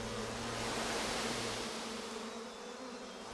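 A honey bee colony buzzes densely and continuously, a close, steady hum of massed wings that eases slightly toward the end.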